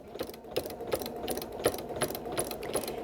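A sewing machine stitches steadily through a quilt, its needle making a rapid, regular mechanical clatter with rhythmic ticks, moderately quiet and close, with no talk.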